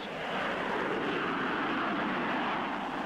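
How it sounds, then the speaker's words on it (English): A Vickers Valiant four-jet bomber fitted with two de Havilland Super Sprite liquid-fuel rocket engines takes off at Farnborough, giving a loud, steady, close roar of jet and rocket thrust that holds for the whole stretch without pause. "The Vickers Valiant, shown at Farnborough, was fitted with two de Havilland Super Sprite liquid-fuel rocket engines."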